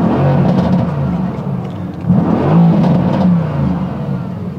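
A car engine revs up and settles back in a close, steady mid-pitched drone, swelling noticeably in the middle before easing, with no talking over it.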